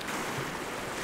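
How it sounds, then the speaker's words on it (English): Sea waves washing and swirling over the rock ledges of Kimmeridge Bay, a steady close broadband surf wash with no talk. "the patterns in the rocks change all the time when the waves are going over them"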